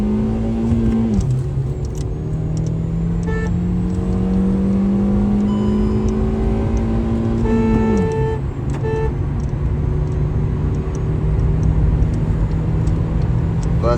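A petrol Hyundai i20 accelerates hard from a standstill to 100 km/h, the engine note rising steadily through the gears with sharp drops at each shift, heard from inside the car over loud, constant road and wind roar.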